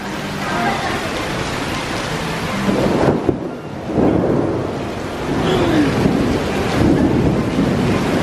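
Heavy tropical rain pours steadily during a Florida thunderstorm, with low rumbles of thunder swelling and fading under a constant wash of noise.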